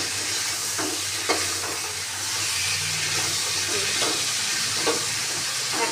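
Something for a potol fish curry fries in a pan with a loud continuous sizzle and steam hiss, punctuated by a few sharp scraping knocks of stirring at irregular intervals; no voices.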